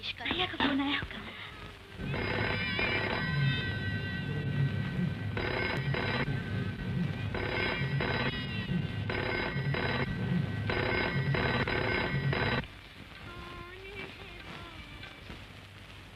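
A telephone in the 1975 Hindi film Apne Dushman rings in repeated electronic bursts with short gaps, fairly loud against a steady background hiss.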